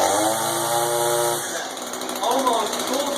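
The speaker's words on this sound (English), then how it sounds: "Something they did different in this high performance engine that, I mean, look, this thing is going crazy." High-performance string trimmer engine buzzing at a high whine, then cutting off as someone speaks over the fading motor; the engine's rising revs are heard only in the opening second and a half.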